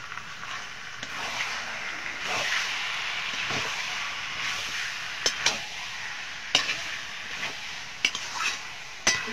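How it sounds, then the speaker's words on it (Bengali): Chicken seasoned with salt and turmeric stir-fried in a pan for chicken kosha, a steady sizzle under repeated scraping strokes and sharp metallic knocks of a spatula against the pan, close and fairly loud. "চিকেনটা ভালো করে কষিয়ে নেব।"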